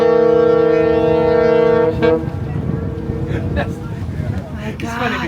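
A large ferry's deep, steady horn blares for about two seconds close by a sailboat, then gives way to a broad rumble of engine and water noise as voices talk over it.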